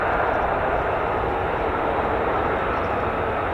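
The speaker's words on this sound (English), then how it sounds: "There's a nice little shot there of the F-35." Loud, steady jet roar from an F-35 fighter taxiing at RAF Lakenheath, a broad continuous rumble with no breaks, heard alone without talk.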